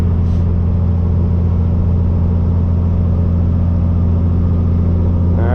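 Custom Peterbilt truck with straight pipes and an 18-speed transmission pulling against a headwind, its engine a loud, steady low rumble that rises slightly as the revs climb, heard from inside the cab.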